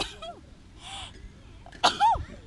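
A single sharp sneeze bursts out close by near the end, after a stretch of soft, quiet vocal sounds.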